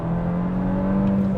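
Mk5 Golf GTI pulling hard in second gear, its engine droning with a strong steady induction hum and rising intake whoosh heard from inside the cabin, no voices.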